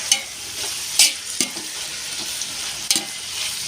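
Onions sautéing in oil for prawn dum biryani, a steady close sizzle with a few sharp stirring scrapes and clacks of a spoon against the pan, no voices.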